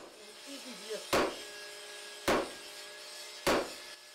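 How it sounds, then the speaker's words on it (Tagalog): Three sharp, evenly spaced hammer blows strike steel while a bolo knife is being forged sharp, close and ringing, with a brief murmur of voice just before the first strike. "Walang tigil na pupukpukin ng bakal hanggang maging matalas ang itak."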